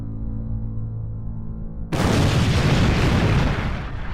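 A supernova star explosion sound effect: a low rumbling hum suddenly breaks into a loud, roaring blast that sustains for about two seconds before easing off.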